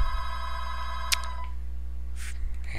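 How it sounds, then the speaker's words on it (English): A telephone rings in short electronic bursts over a constant low hum, the ring moderately loud amid steady room noise. "And there's my phone ringing."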